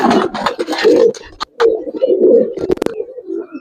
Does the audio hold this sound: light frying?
no